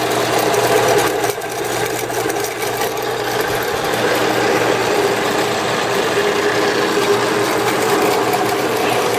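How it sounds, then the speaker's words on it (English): A 7 x 12 inch horizontal band saw, 115 volt model, runs continuously with a steady mechanical whir and hum from its motor and blade, fairly loud and even throughout, without speech. "Here we have a 7-inch by 12-inch horizontal bandsaw. The 115 volt model. I'm just going to fire it up, show you that it does operate."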